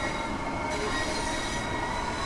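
A Class 465 electric train in Train Sim World 3 hums and whines at a steady pitch, with rumbling wheels and rail noise running throughout, no voices.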